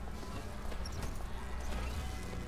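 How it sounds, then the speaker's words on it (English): Mechanical horse hooves clip-clopping in the video game Bioshock Infinite, a steady run of hoof taps set against a dense ambient game soundscape, moderately close and without speech. "Mechanical horse?"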